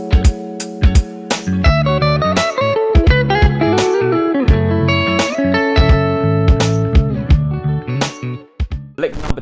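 Neo soul electric guitar lick opening with a chromatic ascending pattern, played solo with some effects and reverb: quick plucked notes, slides and strummed chord stabs in a steady, busy phrase that thins out and decays at the end.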